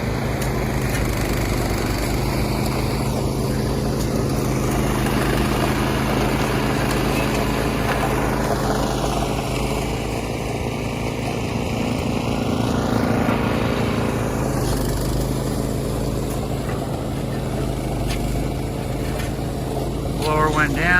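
Snow blower motor runs steadily nearby while clearing a snowy pad in Mammoth, a continuous rough engine drone with a faint sweeping whine partway through.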